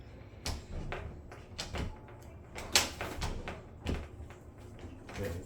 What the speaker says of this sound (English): We're just shutting the door with our hand.